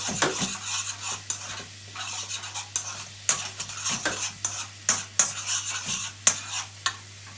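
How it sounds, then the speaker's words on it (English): Curry powder and butter sizzle steadily in a pan while a utensil stirs and scrapes in short, repeated strokes, close by. "you can see that's starting to sizzle now"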